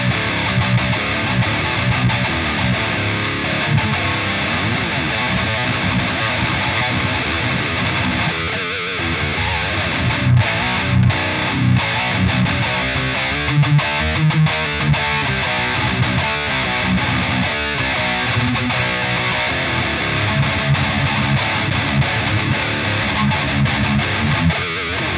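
Electric guitar played through Neural Amp Modeler distortion, a thick, continuous wall of heavily overdriven tone with steady chords and no talking.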